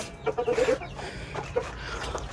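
A hen kept on an Indian backyard poultry setup near an egg incubator gives a short run of soft, close clucks, then a single cluck later against quiet background noise.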